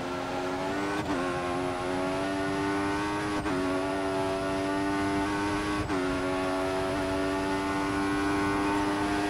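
Formula 1 car engine from the F1 2014 racing game at Monza, Italy, screaming at high revs with a steady harmonic whine, dipping briefly at three gear shifts before climbing again, loud and continuous with no talk.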